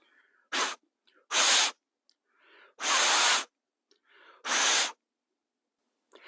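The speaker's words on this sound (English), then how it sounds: "I'm going to blow directly into that with some really short, crisp breaths." Four short, crisp breaths blown hard into the striker hole of a ferro rod fire starter, each a close, loud breathy puff separated by softer inhalations.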